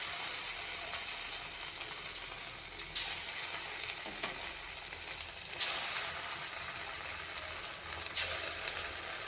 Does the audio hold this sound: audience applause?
no